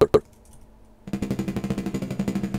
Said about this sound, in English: right now I'm using the exponential decay and it sounds like this pretty much